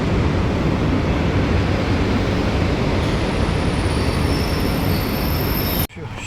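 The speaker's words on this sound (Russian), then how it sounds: "Вот он, поезд с Домодедово в Москву на Павелецкий вокзал." An airport express train from Domodedovo to Paveletsky station in Moscow rumbles and rolls past nearby with steady loud broadband noise and faint high squeals, alone without speech, ending abruptly.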